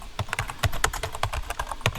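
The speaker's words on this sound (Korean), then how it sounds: "보시면은 이렇게 타이핑 되는 소리가 나죠?" Keyboard typing sound effect: rapid, steady clicks of keys being struck, dense and close, with no voices.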